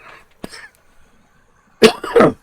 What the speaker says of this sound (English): Bit of a cough from nowhere.